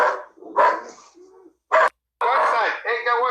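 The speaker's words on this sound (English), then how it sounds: "Oh, you got another dog out there." A dog outdoors letting out several short barks and yips in separate bursts, fairly close and clear, with people talking between them.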